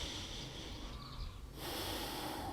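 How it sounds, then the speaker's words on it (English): Steady breathing during a seated yoga twist, a continuous airy hiss of inhale and exhale running close and fairly loud with a brief dip midway, no talk. "And then we're gonna breathe."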